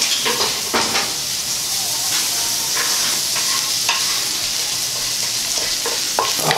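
A vegetable mixture sizzles loudly in a hot pan, a steady bright frying hiss punctuated by stirring scrapes and crackles, close and continuous.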